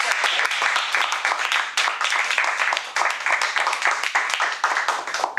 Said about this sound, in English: let's give her a round of applause because she did a lot of work